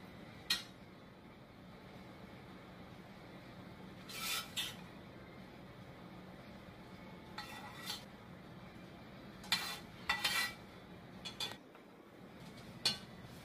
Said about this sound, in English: So I'm gonna go ahead and put my sausage into my casserole dish like this.